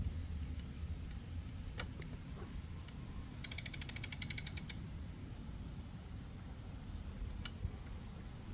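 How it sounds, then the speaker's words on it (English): A screw is tightened on the bracket of an e-bike electromechanical power kit, giving a quick run of faint ratcheting clicks amid scattered small taps over a low background hum. "Now we're going to tighten the other one."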